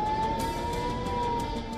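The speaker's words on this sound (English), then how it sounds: "Blaring sirens" Air raid sirens blare over the Israeli port city of Haifa during Hezbollah rocket attacks, a loud, steady, unbroken wailing tone that holds throughout with no voices.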